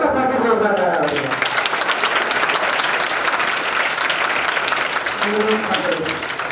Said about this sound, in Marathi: आणि आता स्वतःसाठी जोरदार टाळ्या वाजवा.